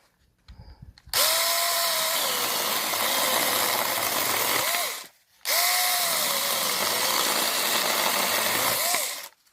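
A Kraftec mini saw cuts through material in two long loud runs of buzzing motor whine, each lasting about four seconds and separated by a brief pause, with the pitch dipping slightly under load, no speech.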